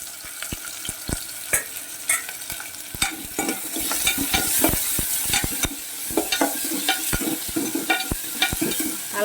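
Pieces of ginger frying in hot oil in a pan, a steady crackling sizzle broken by frequent sharp pops and spatters and scraping stirs, close and loud with no voices.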